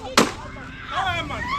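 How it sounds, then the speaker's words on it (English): A single sharp gunshot as a police officer fires into the ground, one loud crack near the start followed by outdoor commotion and raised voices. "The officer decided to fire his gun on the ground"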